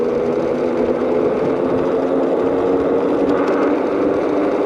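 Onyx RC car electric motor fitted with heat-sink fins runs steadily while the car rolls, a continuous close whirring hum with no breaks and no talking.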